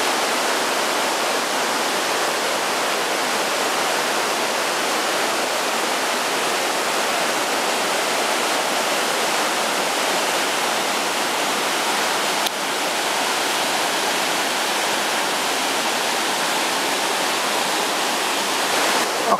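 Water from a brook near Rocky Glen Falls, New Hampshire rushes loudly and continuously, a close, steady roar of flowing water with no talk throughout.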